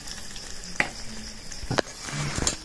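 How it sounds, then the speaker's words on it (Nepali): An egg frying during a hot spell in Dhankuta, heard as a faint, thin sizzle with a few sharp crackling pops close by. "अन्डा पाएको ओ घर धनकुटा गर्मीले अन्डा पाक्यो"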